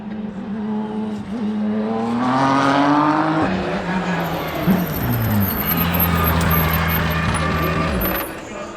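Ford GT Mk IV race cars pull into the pits, engines droning with steadily rising and falling pitch, close and loud, with a sharp clunk midway and a voice talking over the engine noise.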